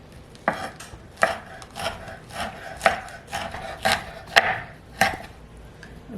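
Pimento peppers are chopped with a knife on a cutting board, about ten crisp, evenly spaced chops ringing out close by and fairly quiet, with no talk.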